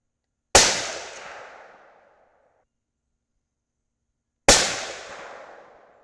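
Two loud, sharp rifle gunshots fired at a target while testing a Vortex Strike Eagle 4-24x50 scope, spaced about four seconds apart, each followed by a long fading echo tail.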